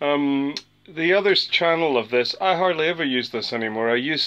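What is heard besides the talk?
No everyday noise stands out behind the speech.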